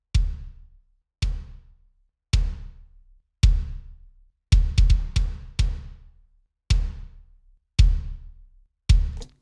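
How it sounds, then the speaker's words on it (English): Isolated EQ-processed kick drum in a studio mix, eleven deep booming hits with a sharp attack and lingering low-end decay, spaced roughly a second apart with a quick double burst midway, loud and alone. "Just turns it into this big, awesome sounding kick drum."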